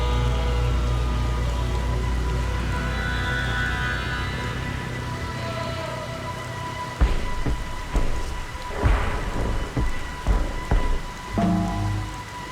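Steady rain pours in Splinter Cell: Pandora Tomorrow, a dense, loud hiss, with deep thunder rumbles and crackles rolling in during the second half.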